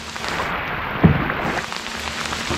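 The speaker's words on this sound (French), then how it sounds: "Il y a de la pluie" Steady rain patters down, a constant close hiss of drops with one slightly louder splash.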